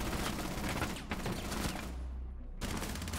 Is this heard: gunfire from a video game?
yes